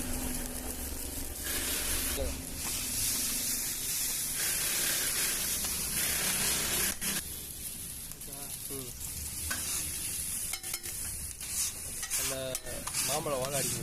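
Raw mango pieces sizzle steadily in a hot pan, a continuous frying hiss with occasional stirring scrapes and clinks of a utensil.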